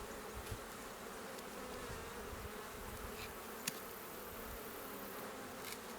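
Honey bees buzz steadily around an open hive during a frame-by-frame inspection, a continuous dense hum with no voices.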